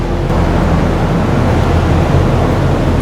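A Camaro 1LE's engine runs continuously on a dyno at steady speed, a loud, dense roar with a deep low rumble that holds from start to end.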